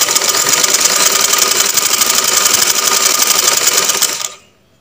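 Sewing machine running a continuous stitch along the curved edge of a shirt neck band, loud and close with a rapid steady rhythm for about four seconds before stopping abruptly.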